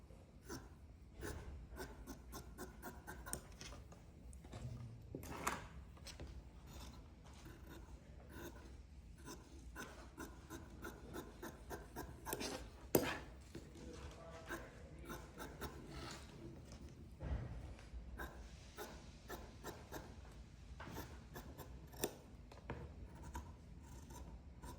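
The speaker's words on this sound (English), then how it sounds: "this one is just one piece, so I'm just gonna cut it as is." Scissors cut through muslin fabric in a long run of close, quiet snips and rustling slides, with an uneven rhythm and short pauses as the piece is trimmed.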